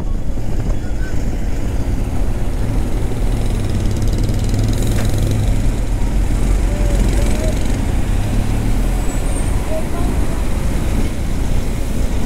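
Vehicle engines idle in a road traffic jam, forming a steady, loud, continuous drone from nearby with no break in the noise.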